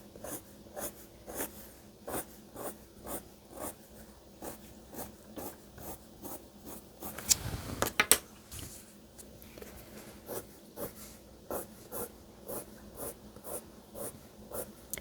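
Colored pencil strokes scratch on paper in a steady back-and-forth rhythm, close and quiet, with a brief louder rustle midway.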